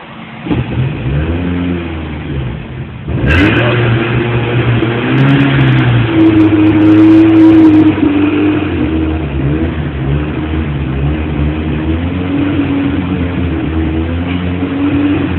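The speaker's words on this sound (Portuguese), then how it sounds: "Agora eu vou dar uma acelerada nele." A Fiat Tipo 1.6 ie car engine starts and then revs up and holds at raised RPM, a loud, close mechanical drone with a steady tone after the initial crank, without any talking.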